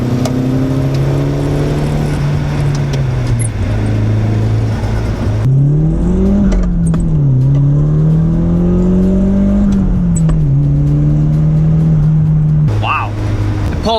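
Turbocharged Nissan 180SX Sileighty engine accelerating hard to its 7,500 RPM redline, heard as loud engine tones climbing in pitch through several gear changes, with brief dips between pulls and a whistling turbo note near the end.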